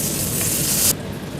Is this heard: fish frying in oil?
yes